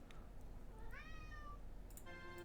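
A cat in the game Call of the Sea gives a few short, faint meows spread across a couple of seconds, quiet against a low background hum.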